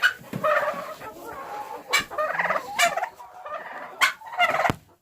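Turkeys being fed from a coffee can, gobbling in several loud close bursts roughly every second, rattling calls overlapping with clucks.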